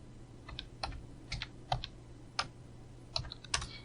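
Keys tap on a computer keyboard as Python code is typed, scattered single and paired keystrokes at a moderate pace over a faint steady hum, with no speech.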